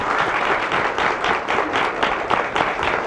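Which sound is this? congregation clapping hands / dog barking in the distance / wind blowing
congregation clapping hands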